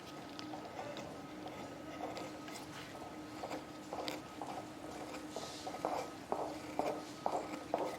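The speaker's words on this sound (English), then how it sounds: "Hearing those footsteps" Soft footsteps fall in an uneven rhythm under a steady low background hum, growing a little clearer and more regular toward the end.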